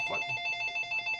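A telephone rings with a steady electronic warble, rapid pulsing tones repeating through the whole second, fairly quiet and alone.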